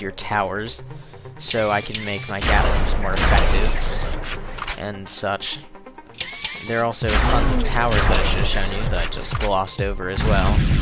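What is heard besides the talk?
Gatling towers firing in the video game Sanctum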